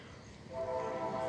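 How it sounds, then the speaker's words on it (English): A train horn sounds in the background behind a Nissan Xterra being repaired, entering about halfway through as a sustained tonal blare with a low rumble beneath, moderately faint and distant. "You can hear the train in the background."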